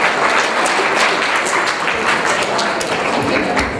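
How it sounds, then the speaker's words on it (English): An audience at a science outreach event applauds a cheerleader, with dense, steady clapping that holds at full strength for several seconds without pause. "Hand of applause for our cheerleader"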